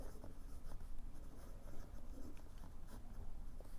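A fountain pen with a wet medium nib scratches steadily across paper up close, a continuous soft rasp with small stroke accents.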